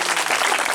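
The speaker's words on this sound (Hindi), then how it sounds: "एक बार आप लोग ताली जरूर बजा" Crowd at a Bihar panchayat election event breaks into brief, dense applause, many hands clapping at once, close and fairly loud.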